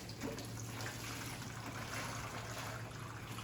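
A quiet, steady trickle of water draining and dripping as a wet Hedgehog floor pad is wrung out in a small press, with a low hum underneath and no talking.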